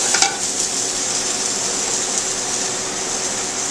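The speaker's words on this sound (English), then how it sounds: "You want to make sure to sweat it down and take all that heat off the garlic." Garlic and shallots sweat in a pan for seafood pasta, giving a steady, close hiss of gentle frying that runs unbroken throughout, with a brief clink near the start.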